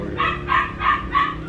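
A puppy gives four short, evenly spaced high yips and barks in quick succession, close and clear over a low background hum.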